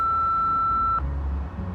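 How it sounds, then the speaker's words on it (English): An answering machine in a Nancy Drew video game gives a single steady high-pitched beep lasting about a second, then cuts off to quiet low room tone. "Anyone else is welcome to leave a message after the beep."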